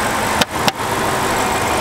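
A BMW 550i sedan's V8 idles steadily under an open hood, a dense, even rumble close up, broken by two brief dips in level partway through, with no voices.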